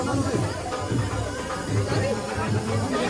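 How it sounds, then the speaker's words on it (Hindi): A dense crowd chatters continuously at a busy fan meetup, many overlapping voices forming a steady babble close around, with no single voice standing out. "भाई देखो कितनी भीड़ लग गई"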